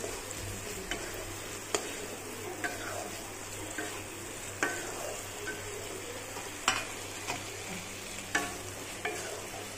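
A spoon stirs fried potatoes and pointed gourd through spices in a hot pan, with a soft steady sizzle under sharp periodic scrapes and taps against the metal.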